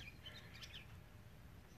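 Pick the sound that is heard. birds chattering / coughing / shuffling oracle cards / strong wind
birds chattering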